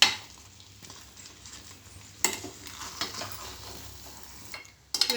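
A spoon stirs rice rava upma with cashews in a pan, with faint sizzling underneath and a few clear scraping clinks against the metal, close and fairly quiet.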